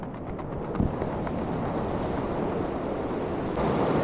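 Ocean waves breaking on a flat, overcast beach along the Great Ocean Road, a loud continuous roar of surf with wind buffeting the microphone and no voices.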